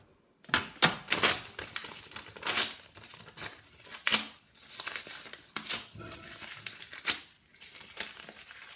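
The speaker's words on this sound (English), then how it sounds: "fold up your piece of paper. And you have 15 seconds to just rip it apart." Sheets of paper ripped apart by hand in a quick timed burst, giving a rapid series of close, loud tearing and crinkling rips with brief pauses between them and no voices.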